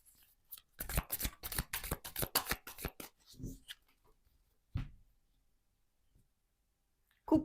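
Tarot cards shuffled in a quick burst of close, crisp riffling slaps, then a few separate soft taps as the deck is cut, in an otherwise quiet room.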